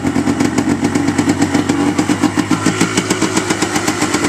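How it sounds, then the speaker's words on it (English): A rebuilt Yamaha Blaster engine idles just after startup, a loud, close, rapid rhythmic putter with a clattery, uneven pulse running steadily throughout, no voices. "The idle might need to be adjusted a bit, and the clutch."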